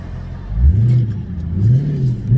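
A Dodge Charger 392 V8 accelerates hard up a small hill, its deep engine note rising and falling in two strong revving surges, heard close from inside the car with no talk.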